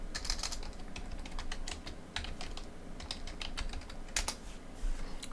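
Steady typing on a computer keyboard, a continuous run of close, crisp key clicks with small pauses, entering a search term, no voices.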